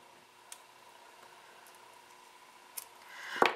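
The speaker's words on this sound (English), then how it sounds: "So I'm going to trim the threads now." Scissors snip the beading threads of a 3-D open heart pendant near the end, a close, brief burst following a couple of faint ticks in an otherwise quiet room.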